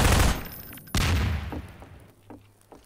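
Gunfire rings out in the video game Half-Life 2 while shooting at an enemy: two loud, close blasts less than a second apart, each with a rumbling echoing tail, then a few fainter impacts.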